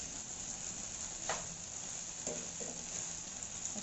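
Maggi noodles with onions frying in a pan give a steady, fairly quiet sizzle, with a few soft stirring scrapes and taps breaking through now and then.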